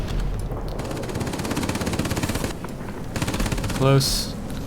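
Aircraft forward-firing guns, long-range 30 mm cannon in World of Warplanes, rattle in rapid bursts, several loud rhythmic volleys with short gaps and a higher tone sweeping near the end.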